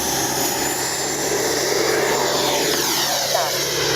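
An FMS Avanti S 90mm EDF radio-controlled jet flies past with a loud, steady ducted-fan whine and roar, filling the whole stretch without a break.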